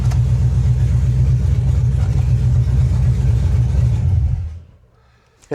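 A Chevy S10 engine drones loudly and steadily while running on a test drive, then cuts off and dies away into near silence, with a brief knock at the very end.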